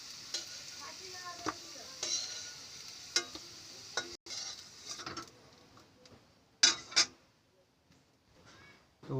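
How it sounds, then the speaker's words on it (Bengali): Potatoes fried in oil in a pan sizzle faintly while a spatula scrapes, clinks and taps against the metal in irregular bursts, with quiet pauses between them. "তো আলুগুলো ভেজে নিয়েছি, আলুগুলো তুলে নেব।"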